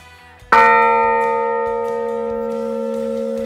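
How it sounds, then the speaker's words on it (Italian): The largest church bell of Fontaneto d'Agogna, Cacciana, is struck once, loud and close, its rich metallic tone ringing out and slowly decaying with a long sustained hum. "Vi facciamo adesso sentire i suoni delle campane, questa è la campana maggiore."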